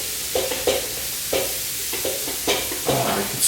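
Bacon and onions sizzle in a pan for bacon jam while being stirred, a steady frying hiss with several distinct scraping stir strokes at an uneven rhythm, up close and with no talking.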